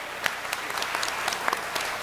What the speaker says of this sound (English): Give them applause as you're leaving.